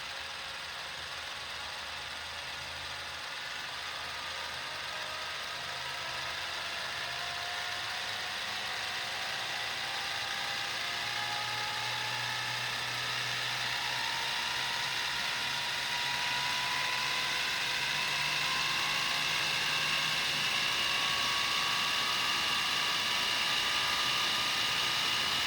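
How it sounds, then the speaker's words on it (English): A small home-built wind turbine generator spins up slowly under load testing in Missouri, a steady mechanical whir and ratcheting hum whose faint tones climb gradually in pitch across the whole stretch, with no speech. "We're going to spool it up real slow."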